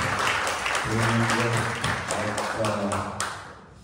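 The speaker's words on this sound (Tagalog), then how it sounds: "Sa pamalakas na palakpak sa ating Panginoon." Applause from a church congregation during a Sunday worship service, a dense wash of clapping that fills the room and tapers off near the end, with some voices and music tones underneath.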